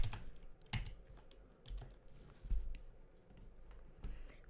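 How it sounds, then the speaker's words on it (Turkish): Keys on a computer keyboard are struck in quick, irregular clusters of soft clicks, close to the microphone, with a muted thump now and then. No voices are heard. "sağdaki shift tuşuna basarak üst taraftaki 5'e basarak aynı anda basıyorsunuz"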